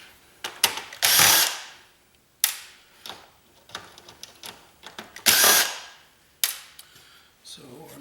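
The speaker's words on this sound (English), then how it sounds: "So I'm just going to remove all the screws that I see." Screws being backed out of a computer system board during scrapping: a string of sharp clicking, ratcheting bursts and scraping metallic rasps, close and fairly loud, with quiet gaps between the turns.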